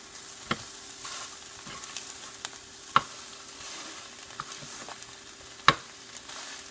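Scrambled eggs fry in a pan on a hot stove with a quiet, steady sizzle, broken by a few sharp clicks and scrapes of a utensil against the pan.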